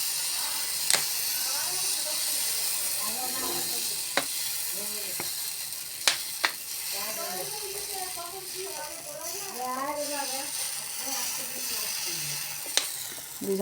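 Rice-flour pitha batter piped from a bottle into a lightly oiled pan, sizzling in a steady, soft hiss with a few sharp clicks and scrapes, heard close with a voice talking over it.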